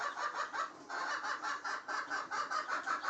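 Gavran country chicks, two days old, cheeping and peeping in a brooder, a close continuous chorus of rapid pulsing calls with no talk.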